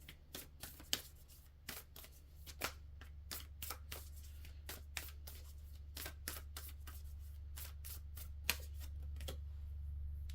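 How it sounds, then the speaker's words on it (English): Tarot deck being shuffled by hand before a card is drawn, a quiet series of sharp riffling snaps and flicks spaced irregularly over steady low background hum. "Let's pull another card here"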